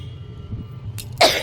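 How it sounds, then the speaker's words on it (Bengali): A single short cough bursts out close by after a moment of low background rumble. "হঠাৎ করে কাশি আরম্ভ হয়ে গেল"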